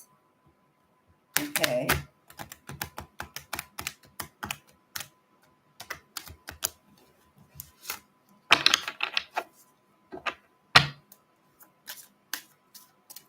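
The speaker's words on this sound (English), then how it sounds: "let me shuffle the cards a bit." Rapid papery riffles and soft snaps of tarot cards being shuffled, in short bursts with pauses, close by, with a brief spoken word near the start.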